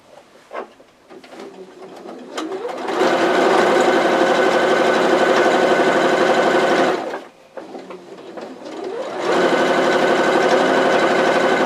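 A sewing machine stitches a pillowcase baby dress, running in two long, steady bursts of close, loud mechanical whirring split by a short pause.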